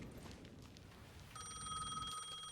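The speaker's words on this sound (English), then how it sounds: "The payphone was ringing again" A payphone in Alan Wake II rings faintly, a bright electronic trill that starts partway through and continues over a low dark rumble of ambience.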